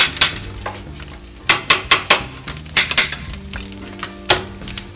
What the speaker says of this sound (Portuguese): Vamos bater agora para tirar o sal